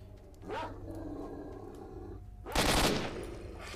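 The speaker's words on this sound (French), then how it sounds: "ça tire encore, ça me plaît pas tout ça" Gunfire in the video game STALKER: Shadow of Chernobyl, with two fairly quiet bursts of shots a couple of seconds apart over a steady game background ambience.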